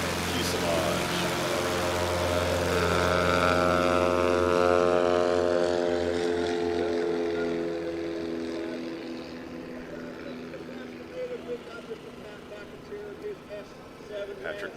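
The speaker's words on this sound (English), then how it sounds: "This aircraft is the Badlands Traveler, which is one of my favorite aircraft on the STOL circuit." Badlands Traveler STOL aircraft, a Cessna wing on a Cub fuselage, at a short takeoff and landing competition, drones loud and steady with its propeller tone sliding in pitch before fading toward the end.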